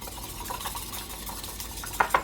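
Egg mixture with carrots being stirred for a rolled omelette, a soft steady whisking and scraping in a bowl, with two sharper clinks of utensil against the bowl near the end.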